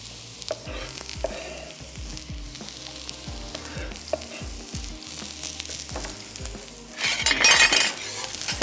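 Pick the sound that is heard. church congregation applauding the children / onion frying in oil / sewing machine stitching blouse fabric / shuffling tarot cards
onion frying in oil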